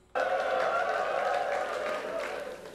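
A crowd at a rap battle erupts suddenly and keeps a dense roar of cheers and shouts going for nearly three seconds, easing off slightly toward the end.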